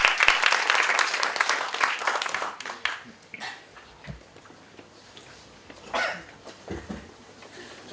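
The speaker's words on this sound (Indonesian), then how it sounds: "Tepuk tangan sekali lagi untuk Kang Emil." Audience applause for Kang Emil at an IURAN ID launch event: a loud, dense burst of clapping fades after about three seconds into quieter room noise, with scattered claps, faint voices and a brief swell of crowd sound later.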